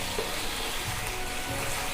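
Spices for chicken rezala stir-fry in a pan with a dense, continuous sizzle and soft scraping of stirring, steady and close throughout.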